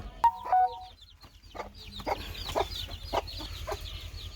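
Laying hens clucking close by in a farmyard, a series of short rhythmic clucks with a few louder calls near the start and a low steady hum underneath.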